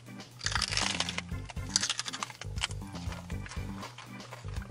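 Raw fennel stalk gets bitten and chewed close to the mic, giving a run of crisp, fibrous crunches with no talk.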